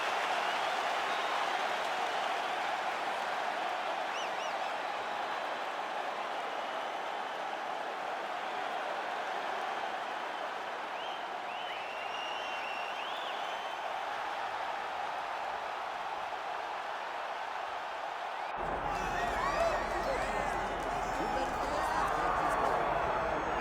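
Arena crowd noise in the UFC 5 video game, a steady dense roar of cheering and applause lasting throughout, with commentary voices over it and a louder, brighter swell near the end.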